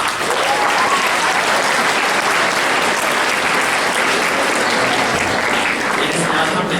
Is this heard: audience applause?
yes